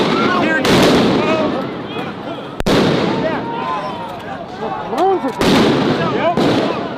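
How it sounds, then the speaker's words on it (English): Flashbang grenades go off at a street protest: three sharp, loud broadband bangs spaced a couple of seconds apart, each followed by a noisy crowd wash, with shouting voices throughout. "They're throwing flashbangs up."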